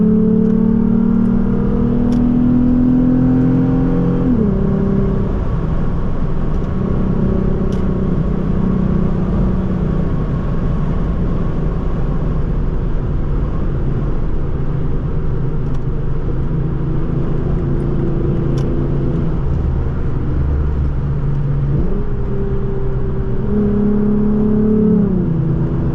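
A straight-piped Lexus IS350 drives along with a loud, continuous exhaust drone. Its pitch climbs and drops in rev swells near the start and again near the end, with no talking.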